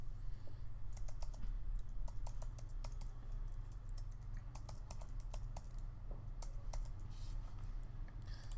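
Rapid keystrokes on a computer keyboard as an email address is entered, clicking in irregular bursts throughout over a steady low hum, close and clear with no one speaking.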